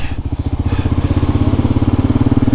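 A Kawasaki KLR 650 motorcycle ridden on a road in Sumatra gives a loud, close, continuous engine thrum with a steady rapid pulsing beat that holds throughout.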